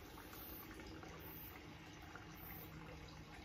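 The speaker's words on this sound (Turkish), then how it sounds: "Çayımızı süzüyoruz." Lavender tea boiled for about fifteen minutes being strained and poured, a continuous soft trickling liquid wash with a faint steady high whine above it, fairly quiet and close.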